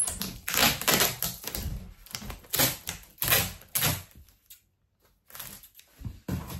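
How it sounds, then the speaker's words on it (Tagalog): Packing tape is pulled and pressed along the sides of a cardboard balikbayan box, a series of loud, close ripping screeches in quick bursts separated by short pauses. "I box the sides. Tape the sides pala."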